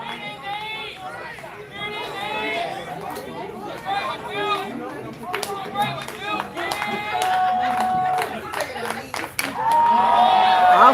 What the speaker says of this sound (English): Dugout cheering him on.